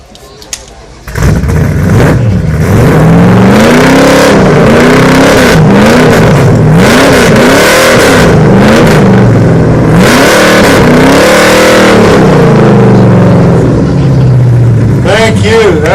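A 1971 Plymouth Barracuda at an outdoor car show starts up and revs repeatedly, its loud engine rising and falling in strong surges close by, then settling into a steady idle.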